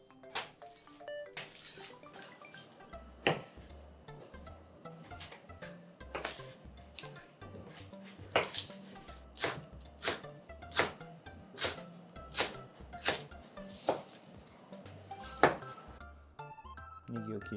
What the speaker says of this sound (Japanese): 小ネギを切ります。